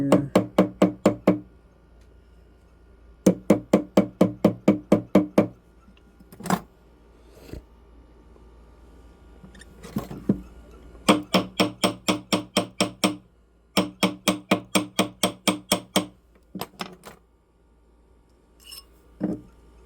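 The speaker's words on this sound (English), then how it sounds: "go ahead and hit it with a ball peen hammer here." Rapid bursts of ball peen hammer strikes on metal, ringing clanks in quick rhythmic runs separated by short pauses and a few single taps, close by.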